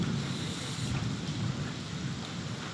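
Heavy monsoon rain pours steadily in Surat, a dense, even roar close by with a low rumble underneath, continuous throughout and free of voices.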